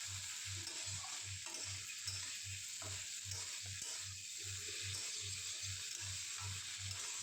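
Banana stem curry being stirred with salt in a pan, a steady, regular scraping stir repeating about three times a second over a continuous soft sizzle throughout.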